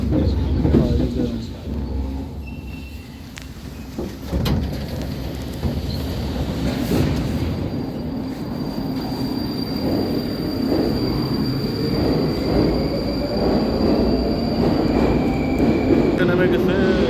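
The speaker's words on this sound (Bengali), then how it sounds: "মেট্রো বুলেট গতিতে চলে যাচ্ছে" Metro train in Russia rushing past at high speed, a loud continuous rumble with squealing wheels and a rising whine, people talking nearby over the noise.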